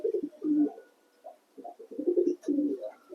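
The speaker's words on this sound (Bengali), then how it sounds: "তো পায়রা লফটে চলে এলাম এই মুহূর্তে।" Lotan and Satin pigeons coo in a breeding loft, with several soft, throaty, close calls repeating in short bursts and brief quiet gaps between them.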